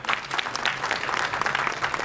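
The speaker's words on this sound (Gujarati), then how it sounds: "વિકાસ સાહા, જોરદાર તાળી થઈ જાય." An audience at a silver jubilee celebration evening claps in lively, dense applause, close and continuous for a couple of seconds.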